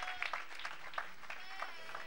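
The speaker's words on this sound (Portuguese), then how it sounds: "Uma salva de palmas." A church congregation applauds, a soft ragged patter of clapping heard at low level and from a distance, with scattered louder claps and some voices mixed in.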